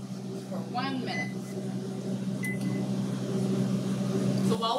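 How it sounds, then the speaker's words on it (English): A microwave oven hums steadily while heating oatmeal in water, a constant close drone with faint talk drifting over it. "So while we're waiting for the oatmeal in the microwave,"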